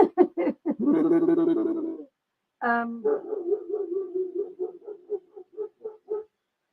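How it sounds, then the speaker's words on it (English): A dog barks close by, a quick burst of yaps and a drawn-out howling bark, then a steady run of shorter, evenly spaced barks, loud and clear with no talk over it. "Can tell by the tone of this bark."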